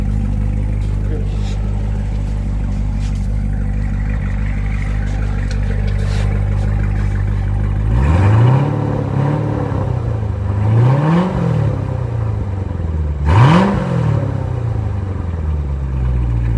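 A car with dual-mode exhaust, vents closed, idles after a cold start and then gives three sharp revs in quick succession, each rising and falling, close and loud, with people talking during the idle.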